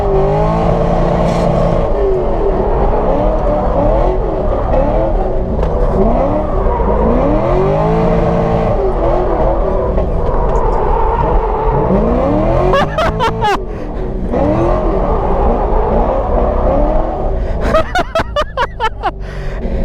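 A C5 Corvette drift car roars loudly on a test drive, its engine revving up and down in repeated surges through gear changes, with brief tire chirps and bursts of wind buffeting later on.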